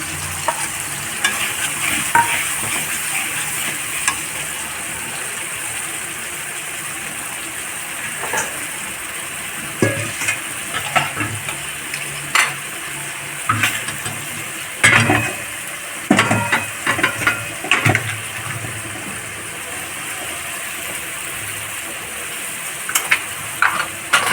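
Spice masala stirred into softened tomatoes frying in a pan for a radish curry, with steady sizzling and repeated scraping stirs from a spoon throughout, close and fairly loud with no talking.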